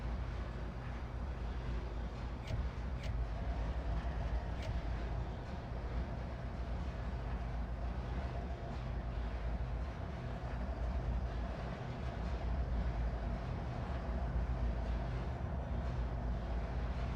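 Freight train of CSX hopper cars rolling past in the Trainz railroad simulator, a steady dense rumble with continuous rail noise and faint clicks throughout, no talking.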